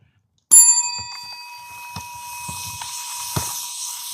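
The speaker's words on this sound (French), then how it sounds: "je sonne la cloche" A bright bell rung once to start a round of hockey-golf, loud and close with a ringing tail that fades into a few soft knocks and clatters.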